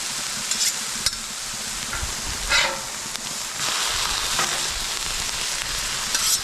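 Bacon-flavoured smash burgers frying in a pan on an outdoor cooker, giving a steady close sizzle with occasional louder spatters and pops as the patties are flipped, without any talk.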